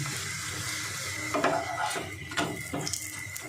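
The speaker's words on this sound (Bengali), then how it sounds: "এবারে ভালো করে ঘুরিয়ে ঘুরিয়ে ভেজে নিতে হবে" Papaya breakfast frying in a pan while being stirred and turned, with a steady close sizzle and a few sharp scrapes and clinks of the utensil against the pan. No voices.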